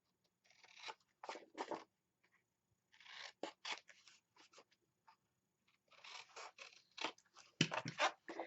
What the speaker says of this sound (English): I'm going to go ahead and I'm going to snip my miter my edges.